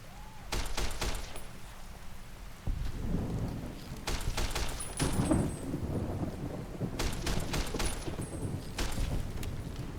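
Gunfire in a Fallout New Vegas firefight, a steady rumbling barrage of shots with sharp cracking bursts recurring over several seconds, loud and continuous.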